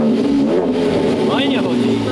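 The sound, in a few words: car engine revving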